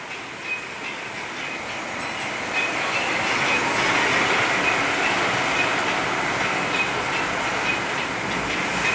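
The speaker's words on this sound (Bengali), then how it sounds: "ভালোই জোরে বৃষ্টি হচ্ছে গাইস, দেখলে বুঝতে পেরে যাবে কত জোরে বৃষ্টি হচ্ছে দেখো" Heavy rain pours down steadily during a thunderstorm in Kolkata, a dense, continuous hiss that swells slightly after the first few seconds and holds loud and even throughout, with no voices.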